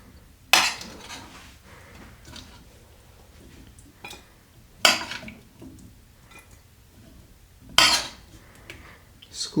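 A spoon scooping meal-prep protein out of a bowl, three sharp clinks of metal on the bowl spaced several seconds apart, with softer scraping and small knocks between, close and otherwise quiet.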